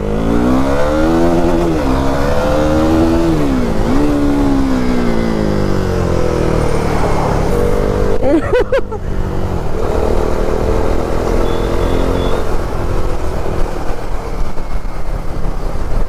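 A Kawasaki Ninja 1000 motorcycle engine roars loudly and steadily while riding on an open road, its pitch rising and falling as the rider works through the revs, with heavy wind rush throughout.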